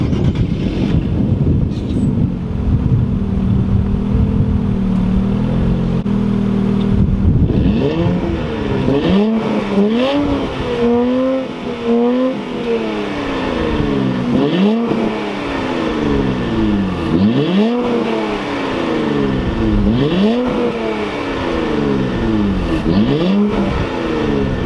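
An Infiniti Q50 Red Sport engine revving loudly, repeated throttle blips rising and falling in pitch over a steady idle rumble, close and continuous.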